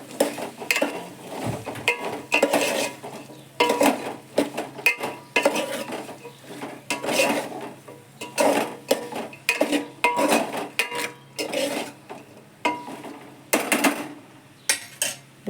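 Onion pieces are stirred and mixed in a cooking pot for a Telangana mango and egg curry, with repeated scraping and clinking of a spoon against the metal pot in an irregular rhythm, close and moderately loud.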